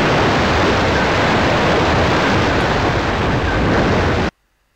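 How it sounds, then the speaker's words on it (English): Submarine destroyed and sinking in the retro video game Lone Wolf: a loud, steady rushing roar like surging water, filling the clip evenly before cutting off abruptly near the end. "Destroyed. You are sinking."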